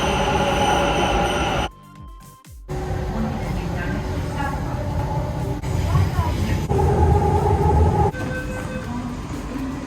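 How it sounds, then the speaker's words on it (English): Steady rumble of a Bangalore metro train in motion toward Lalbagh, with a brief dip as it passes through a quieter stretch, and faint voices under the rolling noise. "boarded the metro to Lalbagh"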